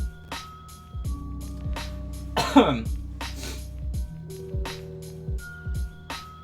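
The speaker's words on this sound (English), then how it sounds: "I promise normally I'm not snotting and coughing as much as I am right now." A sick man coughs and clears his throat several times at close range, harsh bursts over a quiet room with faint low tones in the background.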